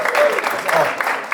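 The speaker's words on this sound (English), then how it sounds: "Round of applause." Audience applause breaks out at an evening Melava Malka gathering as the night's entertainer is introduced, a brief burst of dense clapping with voices mixed in.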